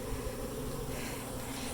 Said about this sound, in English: The majority of the bees are staying right here at the hive